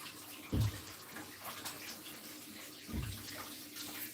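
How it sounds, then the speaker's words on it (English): Running tap water splashes over leaf of life herb leaves as they are washed, a soft continuous trickle with two brief louder splashes, close and quiet. "Give the leaf of life a wash."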